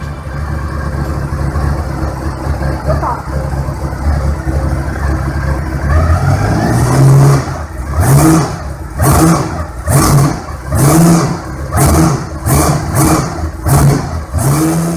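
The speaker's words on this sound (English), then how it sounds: "a video surfaced online showing the fully functioning Ducati Elenore engine" The Ducati Elenore V8 motorcycle engine runs at a loud idle, then revs sharply again and again in rapid repeated bursts, close and alone with no talking.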